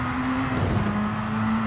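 A racing car engine with a turbo in Gran Turismo 7 holds a steady, droning hum at fairly constant revs, with no speech over it.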